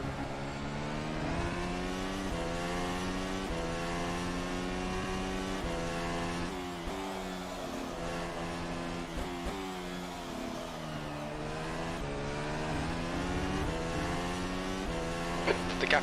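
A FSR 2021 formula race car's engine screams around the Nürburgring in rFactor 2. The loud, steady whine rises and falls through gear shifts for the whole stretch, and a commentator talks over it.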